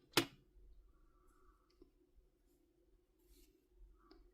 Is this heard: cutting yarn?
yes